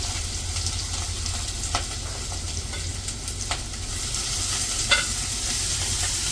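Chopped ginger, garlic, green chilli and onion fry in hot oil after mustard seeds have popped, a steady close sizzle with occasional scraping stirs and small crackles, no voices.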